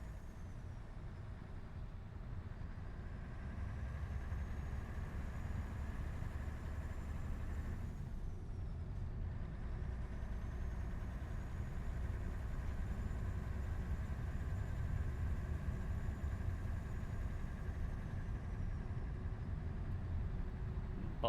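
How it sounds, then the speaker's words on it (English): In Euro Truck Simulator 2, a coach overtakes the player's truck on a road: a steady low engine drone runs throughout, with a brief dip and a high whine that swells as the coach passes close alongside. "a coach is trying to overtake me"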